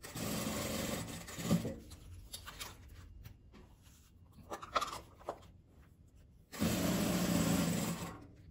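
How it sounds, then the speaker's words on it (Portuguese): Sewing machine fitted with a size 16 needle stitching plastic for a document wallet, loud steady runs of whirring stitches at the start and the end, separated by quieter handling sounds. "eu estou costurando utilizando a agulha número 16"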